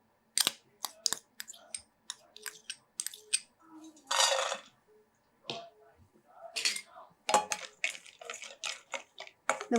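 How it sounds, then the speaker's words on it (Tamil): Cashews stir-fry in ghee in a pan, a spoon scraping and clinking against the metal in irregular close taps and scrapes, with a brief sizzling burst partway through and quiet stretches between strokes. "இப்போ இதே பேனில் கொஞ்சம் நெய் விட்டுக்கிறேன்."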